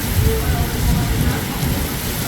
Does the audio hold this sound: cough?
no